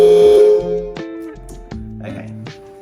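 Electronic sound module in a Kabolite K3362 1/14 scale RC dump truck powering on, giving a series of synthetic tones and clicks with sustained pitched notes, close and fairly loud, with no talking.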